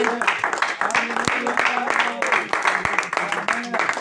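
Church congregation applauding, a steady dense clatter of many hands filling the room, with voices and cheers mixed in throughout.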